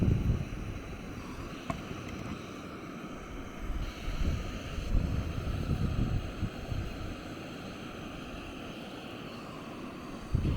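Wind gusts outdoors around a Jetboil Summit Skillet camp stove, a steady low rumble of buffeting across the mic with a soft background hiss, no voices.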